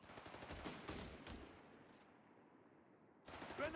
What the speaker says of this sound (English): Grenadiers are under fire.